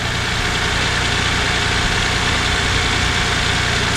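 A 2024 Toyota Tundra engine idles loud and close on a cold start, with a steady, dense running drone and faint knocking texture that holds unbroken, with no voices.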